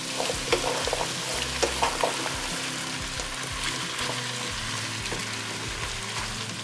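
Vegetables frying in a pan and stirred constantly, a steady sizzle with repeated light scraping and utensil taps against the pan, fairly close and without talk.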